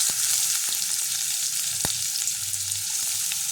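Chopped onion frying in hot oil after the spices go in, a constant close, loud sizzle with a few sharp ticks from the pan.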